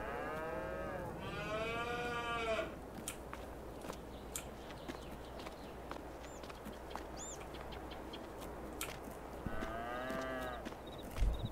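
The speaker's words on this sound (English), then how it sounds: "I'm not going to complain about all your mooing." Cows mooing in a barn in the video game Farming Simulator 22: two drawn-out, fairly distant moos near the start and end over a low ambient hum, with bird chirps in between.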